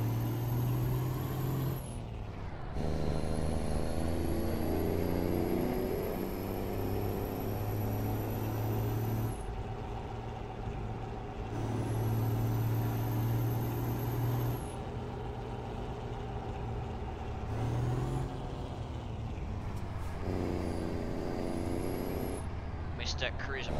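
A custom 1974 Kenworth W900A truck drives through traffic with a steady, loud diesel drone and a high whine that lasts throughout, broken by short dips and hisses like air brakes.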